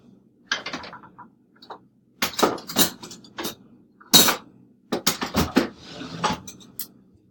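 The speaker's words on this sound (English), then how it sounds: "and then I'm going to stir it." Vegetable oil being stirred into ink in a small container, a series of close, irregular clinks and scrapes in short bursts separated by brief pauses, with no voices.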